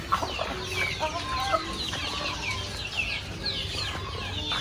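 Native and heritage chickens cluck steadily in a coop, with several birds calling at once in a busy, continuous farmyard chatter at moderate distance.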